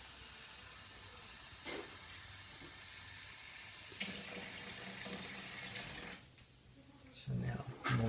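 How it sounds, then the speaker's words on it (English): A Keurig coffee maker runs a rinse cycle, with water hissing and flowing steadily, pausing, then resuming with gurgling bursts, faint and close, with a voice talking quietly alongside. "I'm going to run the rinse cycle."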